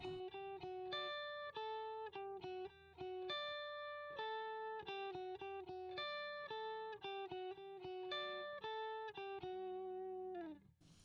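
An electric guitar with light overdrive plays a melodic riff, its notes smeared by rhythmic echoing delay and a wash of reverb, steady and clear.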